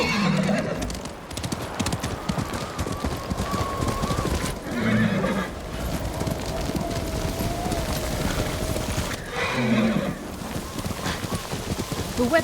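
Horse hooves clip-clop steadily with three short neighs spread across the span, in snowy weather in the samurai game Ghost of Tsushima, fairly close and alone without talk.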